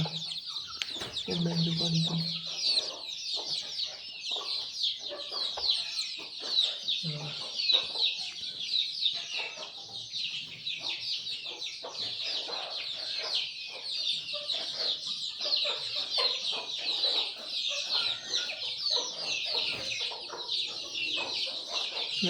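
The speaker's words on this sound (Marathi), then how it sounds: "आता आपण कोंबड्या सोडणार आहे" Many free-range village chickens cluck and chatter continuously as they are let out in the morning, a busy flock of close-up, overlapping calls with occasional low sounds beneath.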